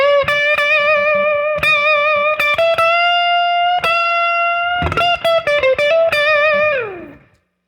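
Electric guitar with a clean-to-driven tone plays a slow blues lick in minor pentatonic: long sustained bent notes with vibrato, sharp pick attacks, a quicker flurry near the end and a sliding fade-out.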